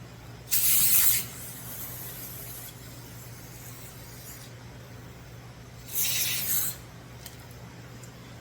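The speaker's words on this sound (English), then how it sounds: "So we're gonna spray it with some carburetor cleaner here." Carburetor cleaner is sprayed onto a disassembled Craftsman M260 carburetor in two short, close, hissing bursts several seconds apart, with quiet background between them.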